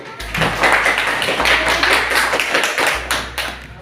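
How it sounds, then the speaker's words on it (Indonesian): Steady rhythmic hand clapping, loud and close, continuing throughout with a low thudding undertone. "silakan mulai tepuk tangan"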